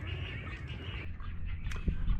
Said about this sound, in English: there's tons of birds that are up in here. Tons of cormorants.